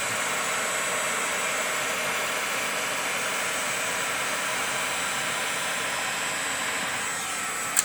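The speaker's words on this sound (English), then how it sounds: "just took out my DeWalt heat gun, any heat gun. And do about 15 to 20 seconds" A DeWalt heat gun runs steadily at close range: a constant, even, breathy fan hiss and whir with no breaks, ending in a small click.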